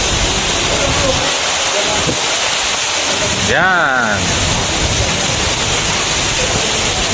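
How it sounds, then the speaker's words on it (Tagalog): Loud, constant rush of heavy water pouring from pipes in a typhoon rainstorm, like torrents spilling, with a man's brief spoken word partway through. "Lahat ng mga pipe. Lahat ng mga pipe. Malalakas na tulong ng tubig."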